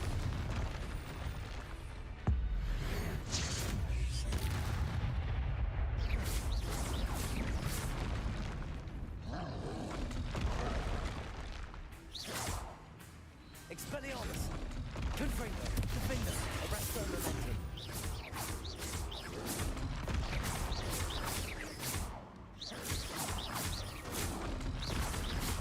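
Booming blasts from the Confringo fire spell in the video game Hogwarts Legacy, dense and loud and layered with other spell effects and game sounds, with a voice speaking over them.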